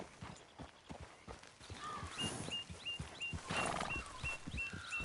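Horse hooves clip-clop at a steady walking rhythm in a PS4 video game, close and fairly quiet. Faint game ambience and occasional soft chirps sit beneath the hoofbeats.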